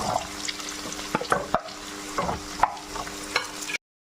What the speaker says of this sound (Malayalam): വഴുന്ന് കഴിയുമ്പോഴത്തേക്ക് അരിഞ്ഞു വെച്ചേക്കുന്ന മത്തങ്ങ ഇതിലേക്ക് ഇടാം